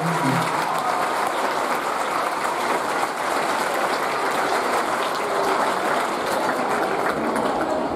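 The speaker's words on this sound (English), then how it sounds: "So if you give them a round of applause." At a community choir concert, the audience applauds the stage crew with steady, dense clapping from a large crowd, filling the hall evenly throughout without pause.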